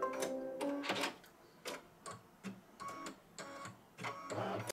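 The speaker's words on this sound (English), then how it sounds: "See how it's stitching exactly in that 1/4 inch seam allowance, both sides." An embroidery machine stitching a quilted table topper runs in short rhythmic bursts of rapid mechanical ticking and whirring, pausing briefly between runs, close and fairly clear with no talk.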